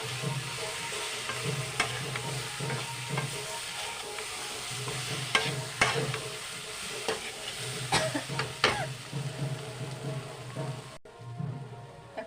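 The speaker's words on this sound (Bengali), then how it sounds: "কাঁচা কলা আলু দিয়ে দিলাম একসাথে ভালোভাবে কষে নেব মশলার সাথে" Raw banana and potato fry with spices in a pan, a continuous soft sizzle broken by repeated scraping stirs of a utensil, moderately close and without talk.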